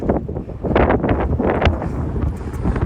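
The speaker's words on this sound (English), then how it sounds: "I really hope you guys can hear me because it's so windy" Strong wind roars and buffets a microphone on an exposed hilltop walk, a loud continuous rush with gusting surges and no voice.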